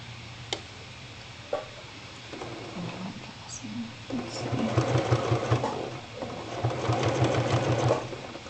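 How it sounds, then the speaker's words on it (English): A sewing machine edge stitches close to the binding on a shirt sleeve cuff, running in steady rapid bursts that stop and restart, close and fairly loud, with a faint voice now and then. "I'm going to edge stitch as close as possible."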